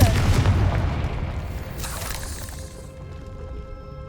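Confringo blasting spell in Hogwarts Legacy, a booming explosion at the start that decays into a rumbling, fading tail over a few seconds, loud and close.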